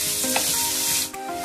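Sliced onions sautéing with salt in a pan for a squid roast, a steady close sizzle with a brief stirring scrape near the end.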